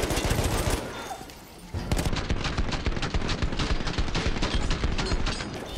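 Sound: machine gun firing in the video game Battlefield 1

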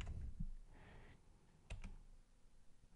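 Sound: typing a command on a computer keyboard

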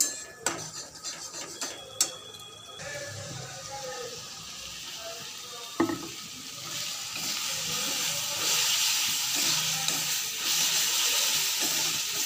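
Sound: water poured into a pan of cooked spices for soybean curry

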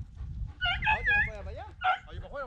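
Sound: dog barking while chasing a rabbit

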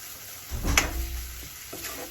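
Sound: stirring bean bhorta in a pan to dry the oil

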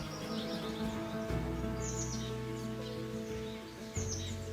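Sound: birds calling in forest

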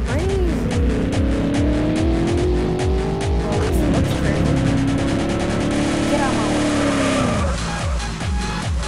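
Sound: car driving in a GTA-like video game

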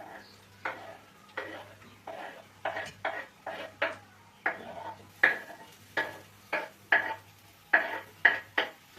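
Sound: stirring frying carrots, onion and sour pickle in pan

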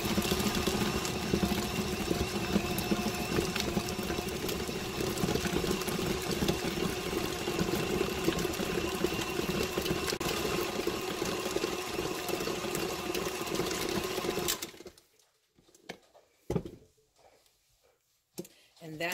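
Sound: KitchenAid mixer whipping cheese ball mixture

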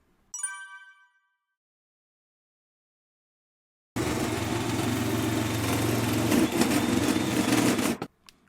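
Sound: drilling a hole for a diesel parking heater install

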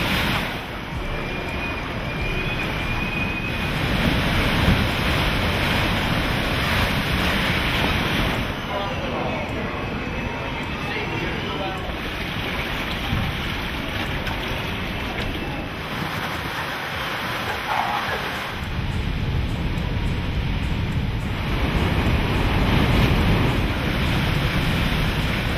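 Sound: hurricane storm surge and wind in the eye wall

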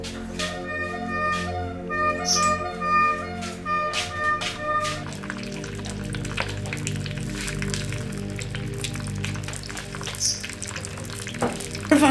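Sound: food frying in a pan while being stirred

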